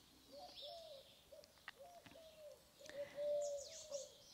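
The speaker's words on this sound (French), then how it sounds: "On a la chance ici d'être entouré d'oiseaux." Birds sing and coo outdoors in a calm natural setting, with repeated soft cooing notes near mid-range and scattered high chirps and tweets throughout, fairly faint with no talk.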